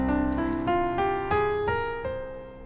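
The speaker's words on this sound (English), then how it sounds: "This is in C Mixolydian flat 6," C Mixolydian flat 6 scale played as a steady run of separate tonal notes, about seven evenly spaced steps stacking into a sustained harmonic tone, loud and close with no voices.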